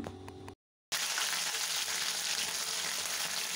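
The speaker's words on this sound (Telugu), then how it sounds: "ఆయిల్ హీట్ అయిన తర్వాత మనం ఇందులోకి కరివేపాకును వేసుకోవాలండి." Curry leaves dropped into two tablespoons of hot oil for jeera rice, a bright steady sizzle that breaks off briefly near the start, then returns and crackles on alone, close and loud.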